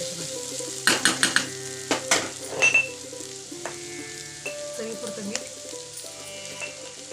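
Onions salted and frying in a pan in a home kitchen, a steady close sizzle with bursts of stirring and clinks of utensils against cookware.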